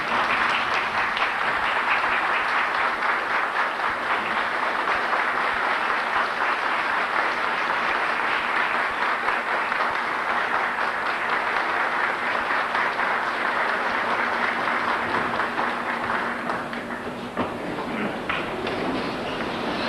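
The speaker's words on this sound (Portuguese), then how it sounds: "Para que eu peço uma salva de palmas." Sustained applause from an audience at a literary academy's 50th anniversary ceremony, a dense even roar of clapping that holds steady for nearly twenty seconds before thinning slightly at the end.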